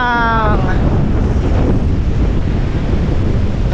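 Strong wind gusts buffet the microphone on a beach at Casapsapan, Casiguran, Aurora, a loud steady roar with surf underneath, and a brief voice is heard at the very start.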